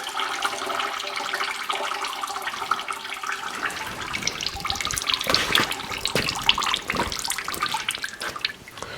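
Old oil drains from an Allis Chalmers motor grader into a pail, a steady close trickle and splatter that thickens and gets louder partway through, with no talking.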